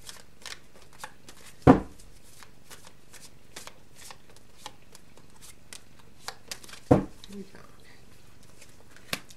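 Tarot cards are shuffled with quick riffling taps and brushing, with two louder slaps as cards are set down, close and fairly quiet.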